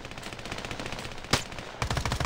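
Rapid automatic gunfire from a gun in the mobile shooter Standoff 2, a dense rattling burst followed by a louder single shot and another quick volley of close, punchy rounds.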